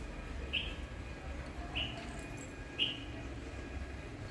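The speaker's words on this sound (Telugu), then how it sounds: "ఊర పిచ్చుకలు వచ్చినాయి" House sparrows near a home on a morning, giving three short, high chirps spaced about a second apart over a steady low background hum.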